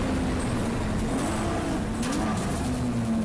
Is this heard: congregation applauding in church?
no